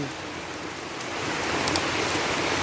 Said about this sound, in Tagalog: ang lakas po ng ulan dito ngayon sa amin